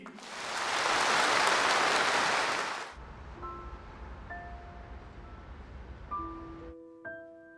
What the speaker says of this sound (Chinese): 让我们再以最热烈的掌声恭喜一下